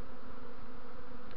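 A swarm of bees with young queens hums low near the ground around a hollow in a linden tree, a dense, continuous buzzing close by with no voices.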